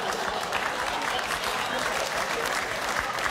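A studio audience claps steadily at a satire show, loud and sustained dense applause from a crowd.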